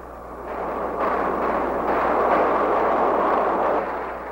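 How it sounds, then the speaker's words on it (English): Heavy B-52 bombardment near Khe Sanh in 1968 gives a broad, sustained roar of explosions that swells and rolls continuously, loud and distant-sounding, with no voices. "Tactical fighters continue their precise attacks, complementing the heavy bombardment of the B-52s"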